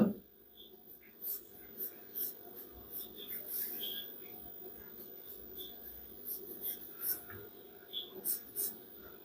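A pencil sketching lips on paper, giving soft, intermittent scratchy strokes in short bursts, quiet and close, with faint breathing in the background.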